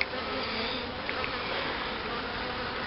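Carniolan honey bees buzz on a hive frame in a dense, continuous, close hum that stays steady from start to finish.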